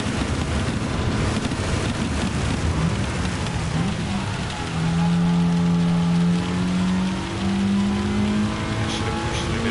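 Heavy rain falls on the High Speed Ring track in Gran Turismo 7 during a race with Gr.4 cars, including a Mitsubishi. A constant hiss of rain covers the whole clip, and a droning engine note rises in pitch partway through.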